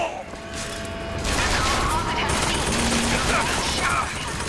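Bursts of rapid machine-gun fire from a 1912 machine gun in the Bioshock Infinite video game, mixed with mechanical clatter and game effects, sustained and fairly loud, with a voice talking over it.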